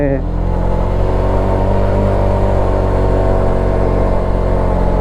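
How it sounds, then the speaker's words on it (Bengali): Motorbike on a mountain road in the hill country, its engine a steady mid-pitched drone that holds fairly loud and constant throughout, with a low rumble underneath. "দেখেন কত দূর থেকে একটা বাইক আসতেছে সেটা বোঝা যাচ্ছে"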